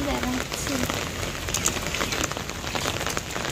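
Rain falls steadily in a constant, even hiss of drops hitting the ground and surfaces nearby, with no pause from start to finish.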